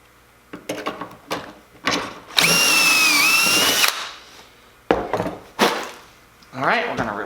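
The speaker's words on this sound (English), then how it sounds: "you can see here that it drilled it perfectly" Power drill boring a pocket hole in wood with a Kreg 320 pocket-hole jig, one steady high whine lasting just over a second, close and loud, framed by clunks and handling noises of setting and releasing the jig.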